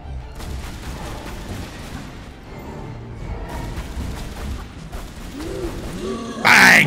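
Gunfire in the action-adventure game Tomb Raider Anniversary: scattered shots cracking through busy game noise, ending in one loud burst close by.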